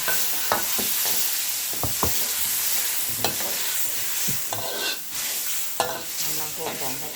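Water mimosa stir-fried in a hot pan with crispy pork rinds, giving a steady sizzle broken by irregular scraping clatters of a utensil against the pan, close and fairly loud throughout, with no voices.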